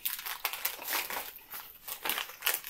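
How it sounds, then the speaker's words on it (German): Plastic packaging bags around soldering iron parts are crinkled and crumpled as they are unwrapped, in irregular rustling bursts close by with no talk. "Und immer mehr Tüten. Warum nochmal verpackt ihr das immer tausendfach?"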